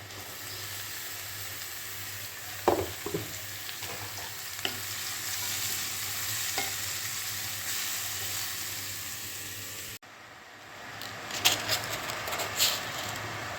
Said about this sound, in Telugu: చూసారు కదండి ఇవన్నీ వేగిపోయినాయి ఇప్పుడు కట్ చేసి ఉంచుకున్న ఆనకాయ ముక్కలు వేసేసుకుందాం